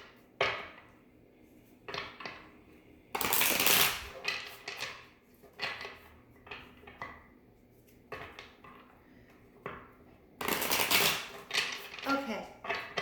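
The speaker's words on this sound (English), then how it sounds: "Just want to shuffle just a few more times." Tarot cards are shuffled in quick riffling bursts, with crisp flutters and soft taps between them, close by.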